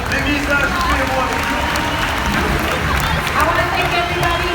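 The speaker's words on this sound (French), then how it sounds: "À la tonnerre d'applaudissements pour notre pilote dans le match sur les motos" An audience at the Moteur Action stunt show at Disneyland Paris applauds a motorbike stunt rider, a dense, steady wash of clapping and crowd noise with an announcer speaking over it.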